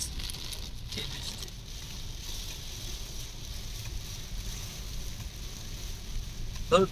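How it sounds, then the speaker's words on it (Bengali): A dense, unbroken roar of heavy rain pours down steadily with no pauses and no voices, only a faint knock right at the end. "বৃষ্টি, ঝড়ি বৃষ্টি, আর এত স্পিডে হচ্ছে।"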